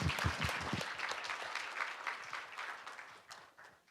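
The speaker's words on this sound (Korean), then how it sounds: "큰 박수 부탁드립니다." Conference audience in a hall breaks into sustained applause for an invited speaker, many hands clapping steadily and fairly close, the clapping thinning and fading toward the end.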